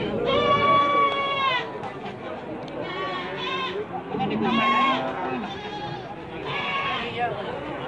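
Goats bleat at the Gondanglegi livestock market in Malang, East Java. Several loud, wavering cries overlap in bursts close by, over market chatter and voices.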